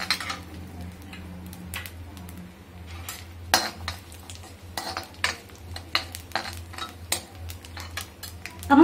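Carom seeds and a pinch of asafoetida fry in a pan for a gentle sizzle. Repeated metallic clinks and scrapes of a spoon stirring against the pan sound over it, louder toward the end.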